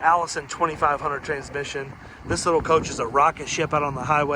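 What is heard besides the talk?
No distinct noise like a dog, phone or traffic.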